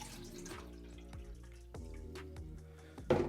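Cold water is poured into a pot for a camping stove boil test between a Trangia and an Evernew DX, a quiet close trickle with gurgles and drips, ending in a brief louder splash.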